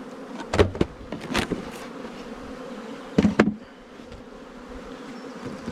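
Honey bees buzz around hive number 1 in a beekeeping yard, a close steady insect drone with a few louder passes as individual bees fly near, alongside faint handling noises and no talking.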